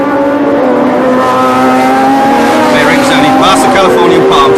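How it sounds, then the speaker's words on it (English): Race cars at the 1976 Long Beach Grand Prix roar through the city streets, a loud continuous engine drone with rising revs and passing cars, under steady commentary. "It's an extraordinary scene, isn't it, to see these cars racing in the streets"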